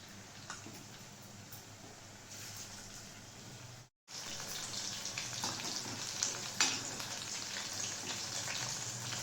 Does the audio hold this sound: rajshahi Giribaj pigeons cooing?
no